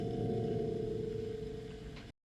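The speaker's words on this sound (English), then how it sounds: "This is the sound of this submarine." A submarine's sound on a sonar recording: a steady low mechanical hum with a strong sustained tone over rumbling noise, continuous and even before cutting off abruptly.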